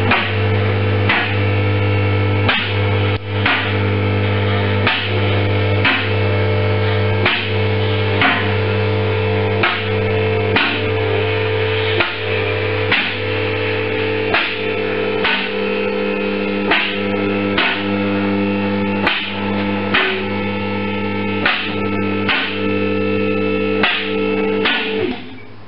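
Automatic safety lock on a car hoist lifting a 2002 Ford Falcon AU clicks in a steady series of sharp metallic clacks, roughly one per second, over a constant low hydraulic motor hum.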